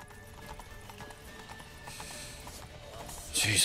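Rapid rhythmic hoofbeats of a galloping horse in The Witcher 3 clatter steadily, with game-like mechanical noise in the background and a brief bright burst at the end.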